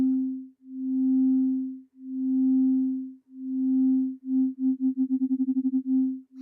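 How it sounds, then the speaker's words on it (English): A synthetic sine tone from a morphing rotor effect in the Things - Motor iOS app hums in long smooth swells, then its wobble speeds up into rapid fluttering pulses near the end. "If I turn this up, you can see that sine wave wobbling even more."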